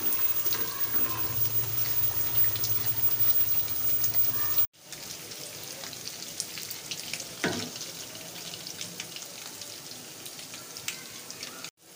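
Potato kofta fry in a pan with a soft, steady sizzle that cuts off briefly partway through and then resumes, quiet and close, with no voices.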